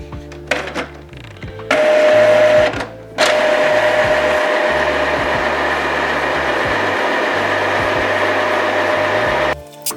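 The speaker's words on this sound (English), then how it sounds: "of the ink system for the first time will take about 11 minutes and must not be interrupted" Epson EcoTank L3250-series inkjet printer running its first ink-charging cycle: loud, continuous mechanical whirring with rhythmic motor pulses and clicks, briefly stopping and restarting, sounding sped up.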